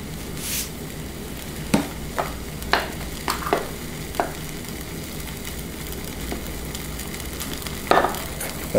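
A cheddar cheese sauce roux in a pan bubbles in a soft, steady simmering hiss while a utensil scrapes and taps against the pan in scattered strokes, close by and moderately quiet.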